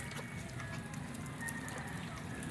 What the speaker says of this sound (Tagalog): Lagi pong umulan ngayon. Lagi umulan.